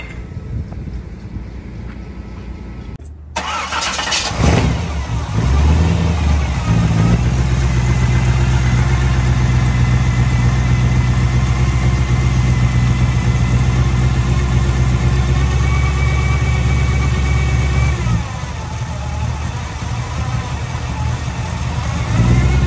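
A 1956 Chevrolet 210 with gear drive cranks and fires up, then settles into a steady, loud rumbling idle that runs close by for the rest of the clip.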